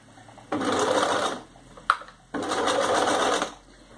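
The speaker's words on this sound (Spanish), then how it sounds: "voy a empezar cosiendo un pedacito normalmente" A home sewing machine stitches a small piece of fabric for a colonial-era costume jabot, humming steadily in two close bursts of about a second each, separated by a brief sharp click.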